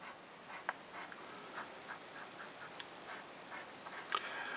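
Wyvern 60C fountain pen nib pressed hard as it writes on paper, soft scratchy strokes in an irregular rhythm with a few sharper ticks, close and quiet.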